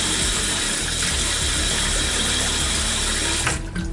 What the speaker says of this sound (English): And then I just drop some water in